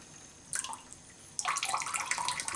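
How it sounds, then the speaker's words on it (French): Water trickles into a tub of shaving soap from a tap or splash, a short faint pour followed by a louder, bubbly, gurgling flow close by in a quiet room. "On va ajouter un petit peu d'eau."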